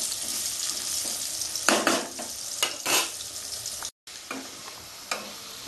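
Potatoes fry in a pan with a steady sizzle, broken by several louder bursts of stirring and spatula scrapes and a brief cut-out partway through.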